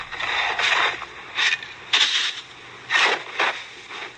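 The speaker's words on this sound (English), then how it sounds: "That's the sound of shoveling snow." Snow being shoveled in a series of gritty scraping strokes, roughly six bursts of blade rasping over packed snow at an uneven rhythm, close and fairly loud with no talk.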